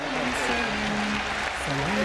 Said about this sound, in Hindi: डॉक्टर जाकिर नाइक साहब का भरपूर तालियों में इस्तकबाल कीजिए